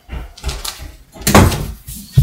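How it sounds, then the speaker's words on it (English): A door swings shut indoors during an argument, landing as a dull, heavy thump amid scuffling and voices, close and fairly loud. "Don't close that door."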